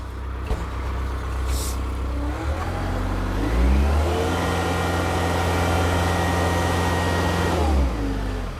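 A TYM F50CH hydrostatic tractor drives and turns, its engine a steady close drone that rises in pitch and load through the middle of the turn, then settles back down.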